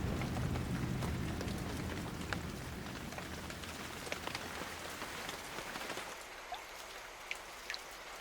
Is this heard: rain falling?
yes